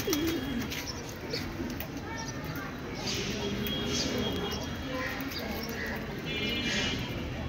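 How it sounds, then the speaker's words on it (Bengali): Pigeons at a pigeon farm coo softly over a dense, continuous background of rustling and bird activity, with many birds clustered close together. "কবুতরগুলো অনেক চমৎকার।"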